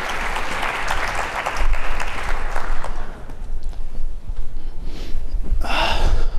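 Applause from the audience greets Mayor Bibb at a State of the City address, a broad, steady wash of clapping from a crowd that swells and continues for the full stretch.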